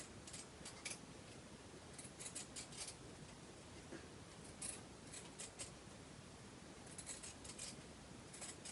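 Pinking shears cut through fabric for a rag nurse doll, each crisp snip repeating in a fairly regular rhythm close by against a quiet background.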